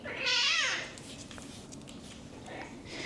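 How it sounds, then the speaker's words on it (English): A pet cat gives one clear, close meow near the start, followed by quiet room sound with a faint voice in the background. "That's my cat, Bubbly."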